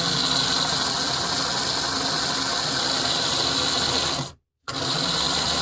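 A Marx pre-war O-gauge #898 toy steam locomotive runs with a constant close whirring motor buzz and rattle, cutting out briefly near the end before resuming.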